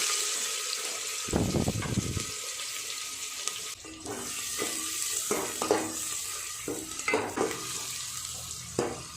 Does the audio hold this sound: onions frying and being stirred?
yes